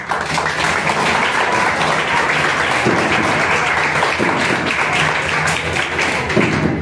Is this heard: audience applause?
yes